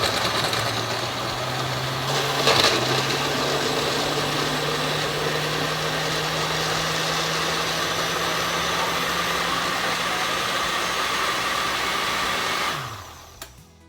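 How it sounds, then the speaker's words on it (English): A blender whirs through a mango smoothie with honey, running as a loud, steady high-pitched motor drone for about twelve seconds before winding down and stopping abruptly. "now we're gonna blend it out nice"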